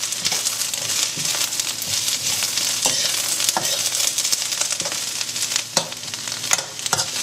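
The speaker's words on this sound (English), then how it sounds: "we're trying to get a little bit of colour on this cabbage" Cabbage fries in a pan for chorizo soup, a continuous close sizzle broken by repeated stirring scrapes and light crackles.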